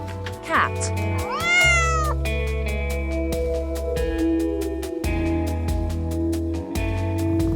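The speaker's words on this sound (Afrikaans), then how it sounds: "Kat. Cat." A cat gives a couple of clear, close meows near the start, one rising and falling, followed by a steady musical bed with no further cat sounds.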